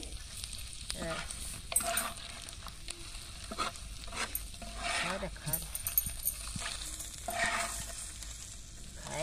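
Egg curry with salt and chilli being stirred and sautéed in a pan, giving a soft sizzle with repeated scraping and knocking of a spatula, close but fairly quiet, with a faint voice now and then underneath.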